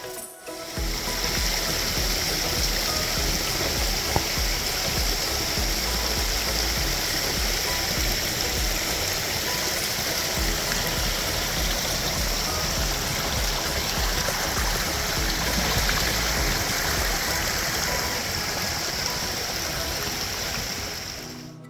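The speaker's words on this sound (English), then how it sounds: "the 80-foot fall that cascades through here and then has a drop" Lands Run Falls in Shenandoah National Park, Virginia, an 80-foot waterfall, roars in a steady, dense rush of cascading water, loud and continuous throughout with no pauses.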